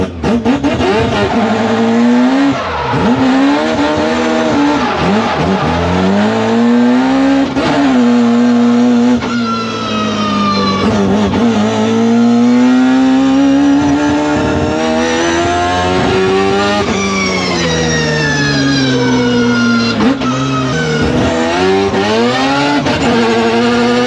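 A four-rotor rotary engine in a Toyota Supra revs loud and close with its throttle stuck open, the pitch climbing and falling in long sustained sweeps with no letup, alone and without talk.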